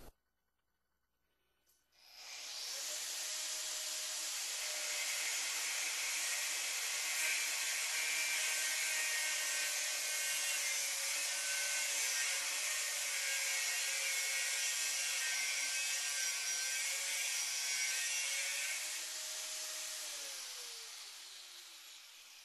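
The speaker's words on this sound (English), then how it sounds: "Now, watch as I use our Easy Glide cutoff wheel." An angle grinder with an Easy Glide cutoff wheel spins up and cuts steadily for about eighteen seconds, a loud high-pitched whine close by, then winds down.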